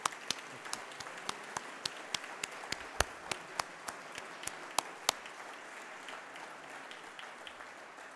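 Applause at an academic year-opening ceremony, a room of hands clapping steadily for several seconds with sharp individual claps standing out, then thinning toward the end.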